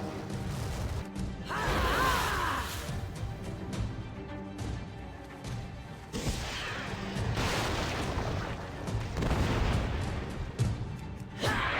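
Repeated explosive bursts and crashing booms as pocket flares strike wagons near Garrosh'ar Point in World of Warcraft: Battle for Azeroth, dense game audio with several heavy impacts over a continuous rumbling bed.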